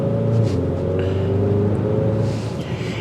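A Hyundai Sonata N-line pulls away hard in sport mode, its steady low engine and road rumble filling the cabin evenly with no talk over it.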